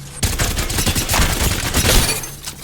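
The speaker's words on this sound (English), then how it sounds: "So the next change they made was Havoc hipfire nerf. So we're gonna test that out right now." Havoc rifle hipfire in the video game Apex Legends sounds as one loud, rapid continuous burst of automatic shots lasting over two seconds before cutting off.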